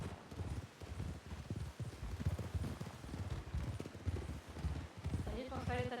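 Horse hooves clip-clop in a steady walking rhythm in a western video game, under near-constant conversation between players, with a brief whinny near the end.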